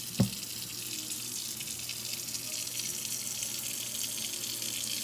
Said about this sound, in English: I'm gonna fill it up with hot, sudsy water.